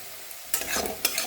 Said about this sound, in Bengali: পেঁয়াজগুলো ভাজা হয়ে গেছে আলুগুলো ভাজা হয়ে গেছে